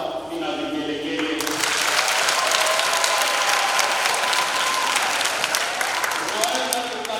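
A crowd at a first-communion children's question-and-answer session at a Catholic parish in Kijenge, Arusha, bursts into sustained applause with high trilling ululation. Before it starts, a voice speaks over tonal sounds, then the clapping and trills hold loud and dense to the end.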